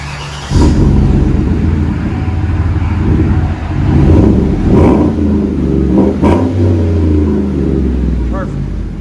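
Inside the cab of a Chevy Silverado with a 5.3L V8 and aftermarket exhaust, the engine rumbles deeply and revs up in several loud swells, droning through the cabin.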